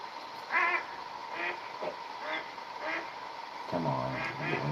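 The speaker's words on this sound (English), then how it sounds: "Come on, I'm getting these stupid ducks to land here." Ducks quacking during a duck hunt by a flagpole, a series of moderately faint quacks spaced evenly at mid-distance.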